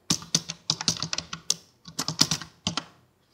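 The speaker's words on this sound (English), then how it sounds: "So let's type sonicFoam and generate the log file." Typing on a computer keyboard while setting up an OpenFOAM simulation run: two quick bursts of close, crisp key clicks with a short pause between them, no voices.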